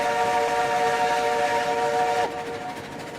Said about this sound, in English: we should give the whistle a scream here.